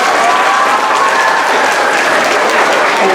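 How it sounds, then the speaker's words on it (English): A crowd of parents and guests at a school event claps loudly for pre-K students, giving a dense, sustained burst of applause close to the microphone with no pauses. "Let's give them a round of applause."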